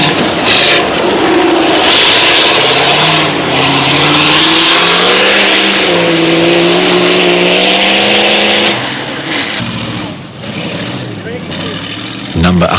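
Dave Hartley's V8 Indy Special rally car at a 1987 AWDC safari event, its V8 engine revving loud and close, pitch rising and falling through sustained roaring pulls before easing off, with a commentator talking over it.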